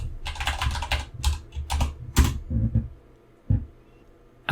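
A password is typed on a computer keyboard at a docker login prompt, with quick bursts of clicking keystrokes and pauses between them, close and clear, and no talking.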